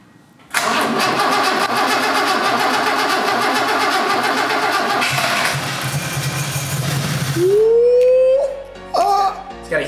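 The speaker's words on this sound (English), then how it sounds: "This is gonna genuinely be the first start if it turns on." A BMW S50 engine fitted in an E30 fires for the first time, running with the intake off and an air leak: a loud, rough, steady roar that cuts off abruptly, followed by brief whirring and people talking close by.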